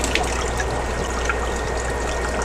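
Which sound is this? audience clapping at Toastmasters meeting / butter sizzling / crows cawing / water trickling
water trickling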